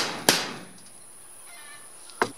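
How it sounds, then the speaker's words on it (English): A hammer taps a screw into sheet metal roofing on a horse barn, two sharp, close metallic strikes about two seconds apart with quiet in between. "just giving it a tap with the hammer"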